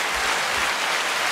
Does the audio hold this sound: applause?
yes